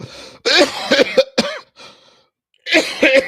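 Several harsh coughs in quick bursts, close and loud, then a short pause before another cluster of coughing.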